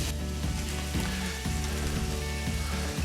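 Swedish meatballs fry in a pan with a steady, close sizzle, while regular low thumps land about every half second, likely from the meatballs being turned; no one speaks.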